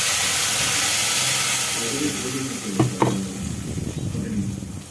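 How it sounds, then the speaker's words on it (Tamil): Ground masala paste hits hot oil in a pan and sizzles with a loud, steady hiss, followed by a few sharp scraping stirs and bubbling that eases slightly toward the end. "இப்போ அரைச்சி வச்சிருந்த பேஸ்ட்டை ஊற்றிக்கலாம்."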